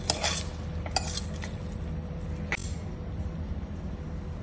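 A spoon scrapes and clinks against a pot as coconut milk and water are stirred, with a few sharper metallic taps over a steady low background.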